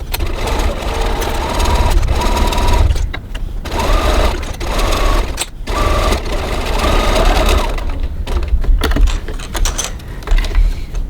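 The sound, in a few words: sewing machine stitching a cross body bag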